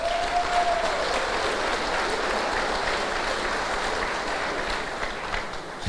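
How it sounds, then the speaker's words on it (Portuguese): A gathering of men at a church holy hour gives a round of applause, dense continuous clapping that holds evenly for several seconds before easing slightly at the end. "uma salva de palmas"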